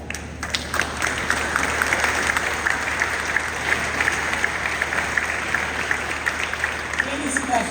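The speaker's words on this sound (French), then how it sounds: "Je vous demande à tous de vous mettre debout pour saluer, pour applaudir" A standing audience at a university graduation ceremony applauds steadily, dense clapping sustained at an even level throughout, with a few voices mixed in.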